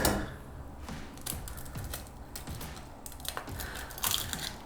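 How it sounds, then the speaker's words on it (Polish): Eggs being cracked for an omelette in a home kitchen, giving a series of sharp, close taps and crunches of shell with soft clatter between them. No one speaks. "Dobra, zaczniemy sobie od rozbicia jajek."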